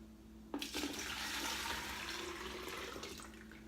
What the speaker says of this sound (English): put our 12 cups of water in it with the pitcher. We're gonna pour this in.